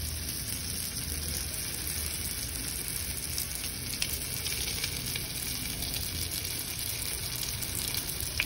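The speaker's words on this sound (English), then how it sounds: "So I'm gonna fry this one." Luncheon meat and cheese lumpia fry in hot oil with a dense, steady hiss and crackle at moderate distance, unbroken throughout and without voices.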